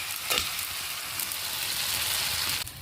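Poultry meat sautéing over a wood fire, a steady close sizzle of frying with a brief louder hiss near the start and a small clatter at the end, no voices.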